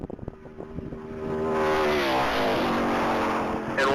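A 2006 Ford Fusion race car at a top-speed mile event roars past at full throttle, its engine note climbing steadily and growing louder and closer, with a sharp burst at the very end.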